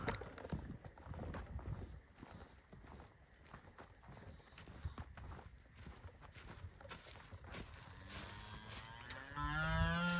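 Low moos from cows and a bull come at intervals over scuffling and shuffling noise as they gather at opened barrel silage, with a long, loud, close moo near the end.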